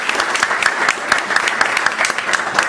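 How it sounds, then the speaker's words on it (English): Loud, sustained applause from members at a study circle meeting, many hands clapping in a dense, even roar with individual claps standing out. "Ratan Shamal with a loud applause."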